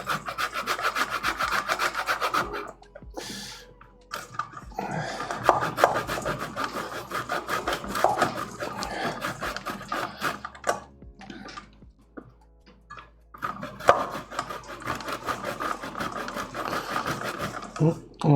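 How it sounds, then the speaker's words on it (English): Cheese is rubbed on a super fine grater in repeated rasping strokes that come in bursts, with short pauses between them, up close and loud, while a person talks over parts of it. "I'm going to grate it on this grater, which is like the super fine cheese grater"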